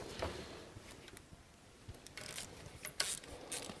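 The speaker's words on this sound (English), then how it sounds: "I'm going to take my 1/4 inch socket, the extension, and a 10 millimeter swivel, and then remove" A ratchet turns a 1/4 inch socket on an extension with a 10 mm swivel to back out a bolt while replacing the VVT control solenoid on a Trailblazer 4.2L. Quiet, uneven ratcheting clicks come in short bursts, with no talking.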